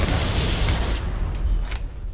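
A grenade explodes in Halo: Combat Evolved, a loud broadband boom that fills the whole clip with dense low rumble and sustained debris noise, with no talk over it.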